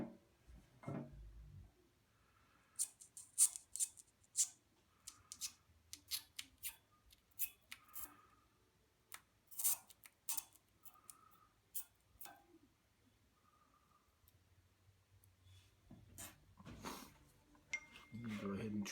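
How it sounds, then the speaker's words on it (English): Sharp X-Acto knife trimming material during a 2010 Jeep Wrangler JK roof rack install, giving a series of quick, crisp cutting snips and ticks, close and fairly soft, with brief pauses between strokes. "Helps to have a real sharp X-Acto knife."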